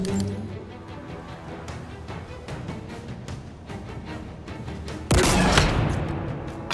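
Sniper rifle shots in the Halo Infinite mission House of Reckoning ring out over a busy battle bed of sharp cracks, with one loud, booming blast near the end that slowly decays.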